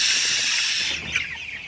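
Broiler chickens cluck and murmur inside a poultry shed, a close, steady chorus that thins slightly toward the end, with no talking.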